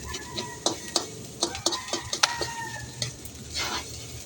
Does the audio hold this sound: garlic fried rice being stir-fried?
yes